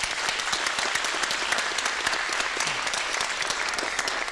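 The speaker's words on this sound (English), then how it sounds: "If we just give them a round of applause" Sustained applause from a crowd honoring woodworkers at a fire recruit academy graduation ceremony, dense steady clapping throughout, fairly close and loud, with no speech over it.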